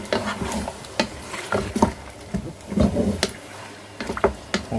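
Mutton pieces frying in a pot for gobhi gosht and being stirred, with irregular scraping clatters of the spoon over a steady close sizzle, alone with no voices.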